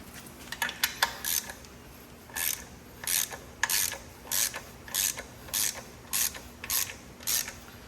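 A ratchet tightens nuts on studs to draw an LS engine's transmission up against the motor in an old Chevy coupe, giving repeated bursts of rapid clicking in a steady back-and-forth rhythm, close and clear with no talk.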